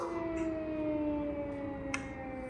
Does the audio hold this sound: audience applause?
no